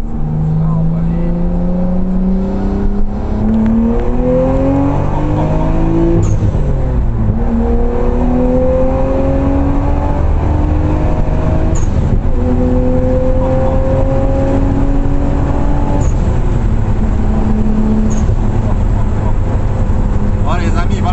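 A rear-wheel-drive Nissan Skyline R34 GTT accelerates hard through several gears. The engine tone climbs repeatedly and drops at each shift, loud and continuous for the whole stretch.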